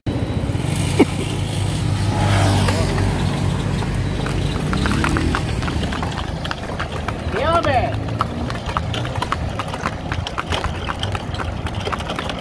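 Horse hooves clip-clopping on a road during a drive along the southern highway near Nejapa, with steady traffic and engine noise throughout and people talking over it.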